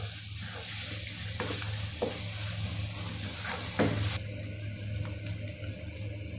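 Green chilli, ginger and garlic paste sautéing in a pan for paneer masala curry, a low steady sizzle with intermittent scraping and knocking of a spoon stirring against the pan.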